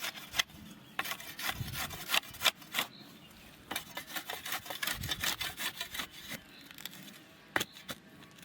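Rough scraping and rubbing strokes work along the bottom edge of a wall as it is trimmed and smoothed by hand, an uneven series of short and longer rasping passes close up, with no talking.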